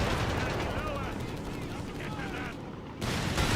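Machine gun fire in the Company of Heroes 3 strategy game, bursts of rapid shots rattling steadily amid other battle noise under a continuous dense mix.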